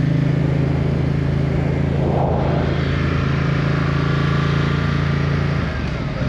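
Ducati XDiavel motorcycle engine accelerating, a loud steady drone with a strong low hum and rising tonal whine, sustained throughout and easing slightly at the end.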